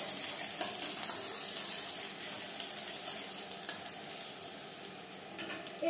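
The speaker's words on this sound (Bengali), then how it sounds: "ভালোভাবে এটা নেড়ে নেব।" A chili gobi mixture with a little ginger is stirred in a sizzling pan, a loud steady frying hiss broken by scattered scrapes and clicks of the spoon.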